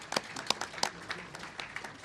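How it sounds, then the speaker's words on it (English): An audience at a local public-affairs program applauds, a short, fairly thin patter of separate claps from a modest group, fading slightly toward the end. "a big round of applause to Frank Fannin, Roger Watt, and Mike Hobbs for putting together this outstanding program"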